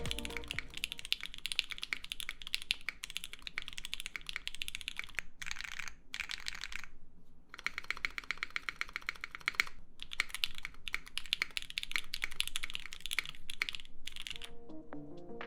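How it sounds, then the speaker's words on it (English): Typing on a PC Moontower v2 RGB keyboard: a steady, fast clatter of keystrokes, close and clear, with brief pauses, heard alone without speech. "I'm gonna let you guys hear a sound demo"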